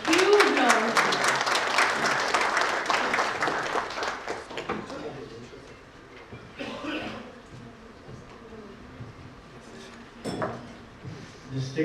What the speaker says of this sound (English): I want you all to please give him a huge round of applause.